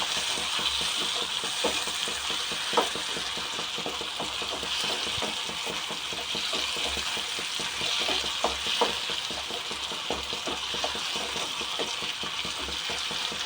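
Potatoes being stirred in a frying pan for a fish fry, with a steady dense sizzle and continuous scraping, rattling stir strokes throughout, close and fairly quiet with no talking.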